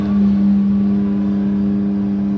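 The Aston Martin race car #007 of Heart of Racing at Daytona drones loudly with a steady, sustained engine tone, heard close and alone without voices.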